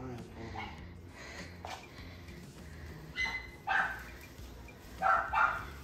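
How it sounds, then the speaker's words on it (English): Indoor dog barking in several sharp bursts, with quieter yips early on and two loud double barks near the end, heard under ongoing talk from people in the room. "Where's Milo barking at?"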